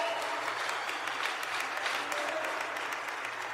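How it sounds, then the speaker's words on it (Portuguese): An audience applauds steadily throughout at a church-style live event, giving a dense, continuous clapping that stays level from start to end. "Uma salva de palmas para o Will."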